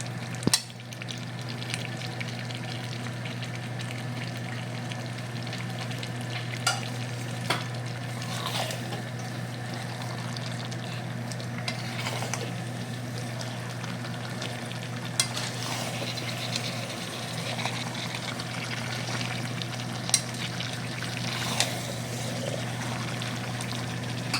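Mutton pieces sautéing in a pan with potatoes added, giving a steady low sizzle with occasional stirring scrapes and clinks across the whole stretch, no talking.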